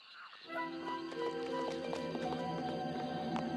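In the Futurama Xbox game, a horse gallops with rapid, rhythmic clip-clop hoofbeats over a game soundtrack, steady and moderately close for a few seconds.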